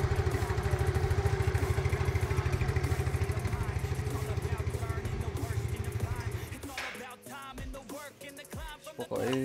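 Used 2010 Yamaha Mio Sporty scooter engine running steadily and loud up close for most of the stretch, then cutting out, leaving scattered knocks, clatter and handling noise.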